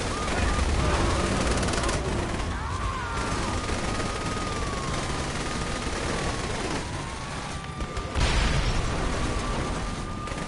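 Rapid gunfire rattles almost nonstop through a Saints Row: The Third Remastered brawl, dense bursts with sharper blasts near the start and again past the eight-second mark, mixed with game effects and a voice talking over it.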